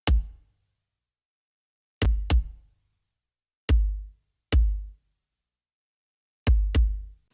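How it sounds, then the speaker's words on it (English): Two layered kick drums glued together by a bus compressor in an indie rock mix, struck alone in sparse single and double hits with deep, punchy low thumps and quick decays. "The glue compressor does a really good job at bringing both of those two kicks together and unifying them a little"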